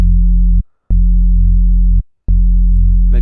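A loud synth bass note from Serum with a layered sine wave, played as sustained pure low tones that cut off in two short gaps before resuming, with no voices.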